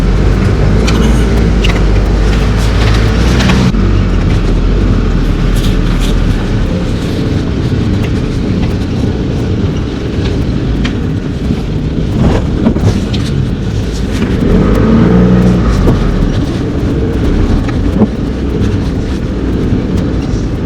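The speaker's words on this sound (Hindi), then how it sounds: "गाड़ी में जोर मार रही है" A four-wheel-drive vehicle's engine strains as it climbs a snowy mountain track at high altitude, a loud, sustained rumble that rises and falls with bumps and knocks over the rough ground.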